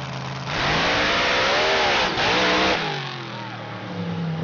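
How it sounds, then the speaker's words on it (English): A powerful drag racing car engine roars up to a loud, high over-rev, holds briefly with a wavering pitch, then drops away as the note falls. "You heard the engine over rev."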